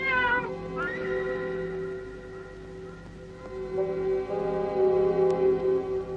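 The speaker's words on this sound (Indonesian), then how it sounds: "Rupanya kucing ini telah mengganggu perjalanan Anda." A cat meows in a 1981 Indonesian film, two quick high calls at the start followed by a longer drawn-out wail over a steady background hum.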